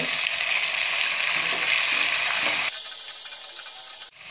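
Shallots and tomatoes fry steadily in a pan for a chutney, making a loud, continuous sizzle and hiss that runs throughout, with a brief drop near the end.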